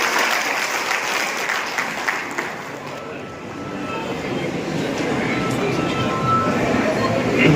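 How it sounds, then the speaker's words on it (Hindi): Loud, sustained applause from a crowd welcoming the chief minister at a government launch event for the PM Suraj portal, a dense steady roar of clapping that holds at an even level throughout. "जोरदार तालियों के साथ मुख्यमंत्री जी का स्वागत करें"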